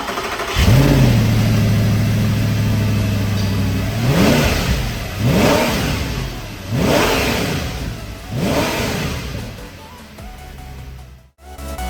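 An Audi R8 engine with a Quicksilver exhaust cranks and fires up, settles into a rumbling idle, then is revved hard four times in a row, each rev rising and falling.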